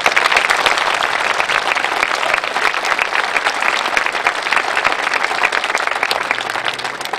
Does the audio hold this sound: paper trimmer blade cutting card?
no